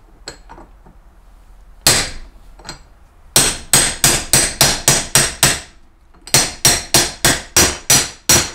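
Hammer blows drive a wheel bearing into its seat on a boat or utility trailer: a few scattered strikes, then two quick rhythmic bursts of sharp metallic hits, loud and close with no talking.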